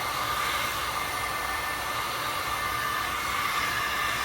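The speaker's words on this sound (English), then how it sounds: "Now we will apply some heat to loosen the adhesives underneath. You can use a hair dryer" A hair dryer blows hot air onto an iPhone 16 screen to loosen the adhesive underneath, producing a constant, close, even rushing hiss with no breaks.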